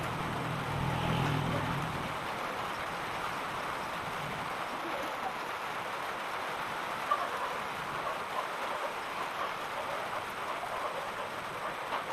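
Steady rain hisses evenly throughout, with a low rumble early on and a faint tap or two; no clear talking.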